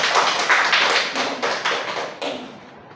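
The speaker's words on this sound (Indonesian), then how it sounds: "Tepuk tangan untuk kalian semua." A classroom of students clapping hands together, a dense burst of overlapping claps that stays loud and close throughout, fading slightly near the end.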